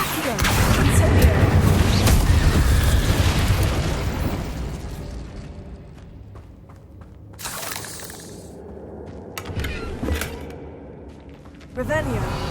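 Spell effects from Hogwarts Legacy, with the Incendio fire spell, burst out as loud crackling, shattering blasts that fade into quieter rumbling, then flare again in short bursts near the end.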